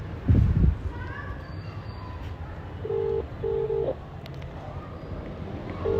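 A few short beeping dial tones in a row, preceded by a brief thump, with faint background noise and room sound.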